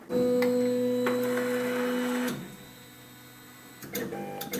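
An Ortur Laser Master 2 laser engraver powering up and homing: a steady electrical hum with a strong tonal whine that stops abruptly, then a quieter hum and a few faint clicks, close and with no talking.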